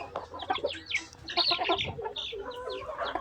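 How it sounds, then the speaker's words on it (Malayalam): Native spotted Kurukali-breed chicks about two months old, a group of eleven, cheep and cluck in a busy overlapping chorus of close, high chirps that runs without a break. "നാടൻ പുള്ളി കോഴിക്കുഞ്ഞുങ്ങൾ വിൽപ്പനക്ക്"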